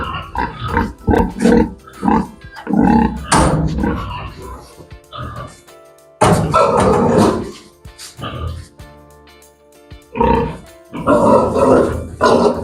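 A boar on a small pig farm gives several deep, close grunts in irregular bursts, mixed in with people talking nearby.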